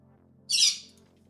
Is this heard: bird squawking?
yes